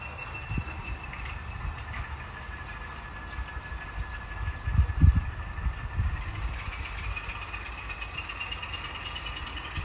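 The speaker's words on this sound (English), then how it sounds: "I think the wet roads are making the vehicle traffic a lot louder too." Road traffic passes over wet pavement near a rail switching job, a steady low rumble with tire hiss that swells into a louder pass around the middle, with no talking.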